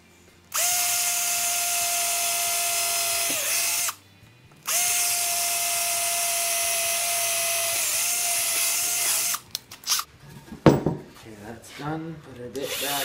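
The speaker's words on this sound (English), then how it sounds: "So I'm just going to drill two holes where the screws go." A power drill bores pilot holes for screws into old lumber while building a sawhorse: two sustained whining runs separated by a short pause, followed by clattering handling noises.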